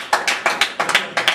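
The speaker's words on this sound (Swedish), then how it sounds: "En stor applåd." A short burst of applause, a handful of quick sharp claps in an uneven rhythm from a small group, fairly close and loud, with no talking over it.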